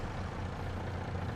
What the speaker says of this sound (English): Should be able to empty this truck into there.